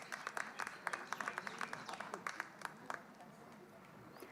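Sparse clapping from an audience at a competition prize ceremony, greeting a third-place winner called on stage for a certificate; scattered, uneven claps that thin out and fade after about three seconds, with no voices.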